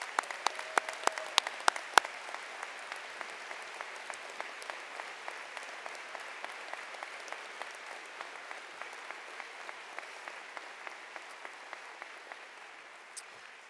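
A high school commencement audience applauds military veterans, a long steady wash of clapping with sharper claps early on, slowly fading near the end.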